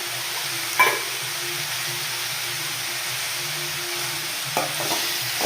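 Tomatoes seasoned with salt and turmeric sizzle steadily in a pan, a close, even frying hiss broken by a couple of brief spoon-stirring scrapes.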